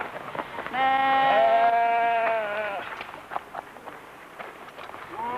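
A single long, wavering sheep bleat rings out clearly nearby, followed by quieter shuffling and outdoor sounds.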